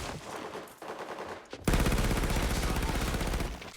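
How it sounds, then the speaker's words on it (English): Automatic gunfire in a Call of Duty Zombies fan film firefight, a quieter stretch of shots first, then a sudden loud, sustained burst of rapid fire, close and dense. "where Rosenfeld and Tippett are in the middle of a firefight, and Tippett saves Paul but is shot in the process."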